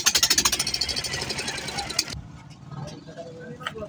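A small boat engine chugs in rapid, regular pulses, then dies abruptly midway, leaving only faint background noise and scattered sounds.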